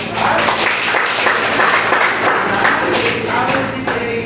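A classroom of students claps for themselves in a dense, continuous round of applause, loud and close throughout with some thumps and a faint hum underneath.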